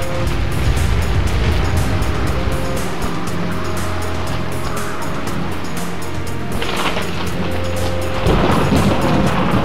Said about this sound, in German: Ach du Scheiße, Schlacht im Sturm.